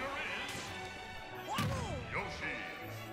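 Fighters trade up smash attacks in a Super Smash Bros. 4 grand final between Yoshi and Villager, with sharp crashing and thwacking hits and swishes mixed with game effects, while commentators talk over them.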